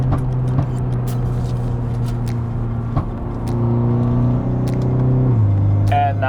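A BMW G20 330e with its exhaust valves open gives a loud, steady engine drone. Toward the end the pitch drops as it shifts or eases off, followed by a short higher whine.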